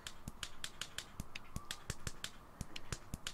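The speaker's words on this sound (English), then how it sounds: "That's the sound of us running." Tiny frog footsteps from the Amazing Frog video game patter in a quick, light run of sharp tapping clicks, evenly paced and fairly faint, with no talk over them.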